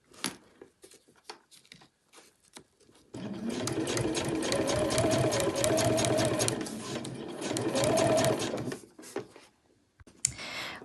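A sewing machine stitches a zip beside piping on a cushion cover, running steadily for about six seconds after a few scattered clicks and handling noises, then stopping.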